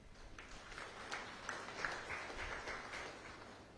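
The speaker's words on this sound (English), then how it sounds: "Please clap for him." Mourners applaud a fallen brigadier general at a memorial, a steady wash of many hands clapping at moderate distance, sustained and even throughout with no voices over it.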